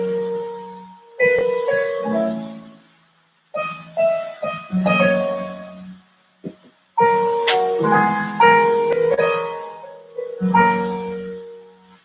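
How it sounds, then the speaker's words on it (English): Piano rendition of the indoor palace theme from the video game Zelda II: The Adventure of Link, phrases played in bursts separated by short pauses, clear and solo. "It's the indoor theme from The Adventure of Link."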